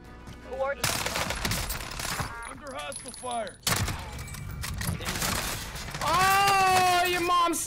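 Bursts of rapid automatic gunfire crackle through a Warzone match, sharp volleys coming in clusters with gaps between them, while voice lines and game chatter play over and around the shooting.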